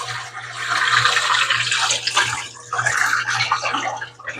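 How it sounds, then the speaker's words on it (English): Water poured out of a soaking container in an art workspace, a steady splashing gush that dips briefly midway and then carries on, close and moderately loud with a faint low hum beneath. "I need to empty this water"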